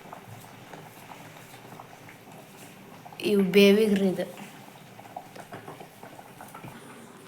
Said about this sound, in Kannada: ಈಗ ನೋಡ್ರಿ ಅನ್ನ ಕುದಿಯಾಕತೈತ್ರಿ